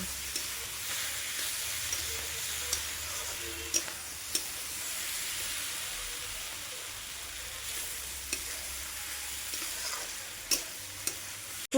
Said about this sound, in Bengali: সমস্ত সবজি দেওয়া হয়ে গেছে, এবার এগুলোকে আমি ভালো মতো ভেজে নেব।